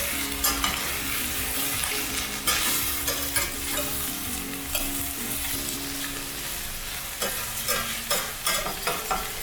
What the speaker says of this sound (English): You just kind of scrape that up as you go.